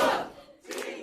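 Supporters at a Democratic Party election camp burst into a brief loud cheer that fades, then a second swell of shouting rises.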